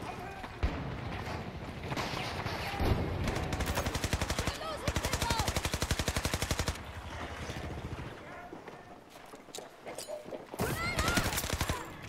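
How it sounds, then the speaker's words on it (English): Gunfire in Battlefield 2042 during an incendiary grenade attack, with long rapid bursts of automatic fire that stop and start over a dense, loud game mix with brief pauses between volleys. "That was a well-timed incendiary grenade."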